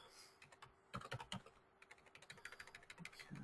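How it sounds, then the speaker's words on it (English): Steady, fast typing on a computer keyboard during a presentation, dozens of soft overlapping keystrokes in quick runs with short pauses, quiet and close, with no voices. "This is the fun part of the presentation where you get to watch me type a lot."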